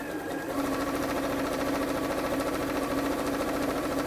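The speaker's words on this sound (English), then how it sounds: "we're dropping the needle into the fabric, lifting the foot and pivoting the fabric as well" A domestic sewing machine runs steadily and continuously, stitching fabric for a drawstring bag with an even, rapid mechanical whir, close and loud without pause.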